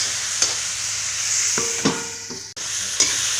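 Chicken liver and boiled potatoes fry in a pan with a constant bright sizzle, broken by a few sharp stirring scrapes and clinks, close and fairly loud.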